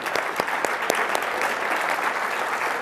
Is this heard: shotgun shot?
no